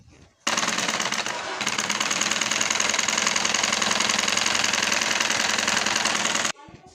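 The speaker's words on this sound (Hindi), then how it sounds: "सिलाई लगाते हुए ले जाएंगे।" A sewing machine runs steadily while stitching a strip onto palazzo pants fabric, making a loud, close, continuous rapid mechanical rattle that lasts about six seconds and then stops abruptly.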